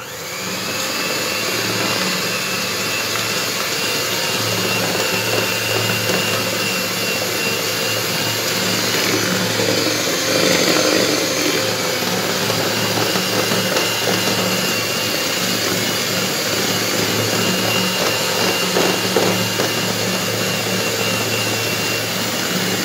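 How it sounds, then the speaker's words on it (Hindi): An electric blender whirs steadily as it mixes milk with dry cake ingredients for a gulab jamun travel cake batter. The motor drone is loud, even and continuous for the whole stretch, with no voices. "इसको हम एक बार ब्लेंडर से अच्छे से मिक्स करेंगे ताकि हमारा दूध और सारे जो ड्राई इंग्रेडिएंट है वो"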